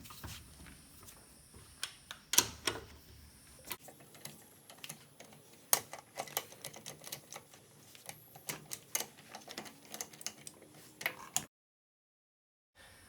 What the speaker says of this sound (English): So now I'm going to tighten these in the star pattern.